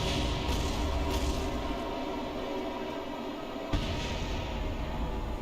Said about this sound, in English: It looks like an internal explosion